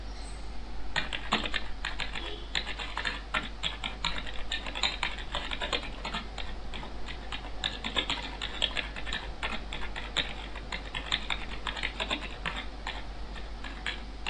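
Rapid, steady typewriter-style keystroke clicks patter continuously and crisply over a low constant hum, with no voices.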